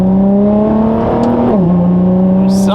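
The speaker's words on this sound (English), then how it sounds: "something just about those twin turbos that you cannot ignore. I mean, listen to this. Those blow-off valves." A Nissan GT-R with twin turbos and 98,000 miles revs loudly up close, holding a strong tone before the pitch drops as the throttle closes, followed by a brief hissing blow-off valve release at the end.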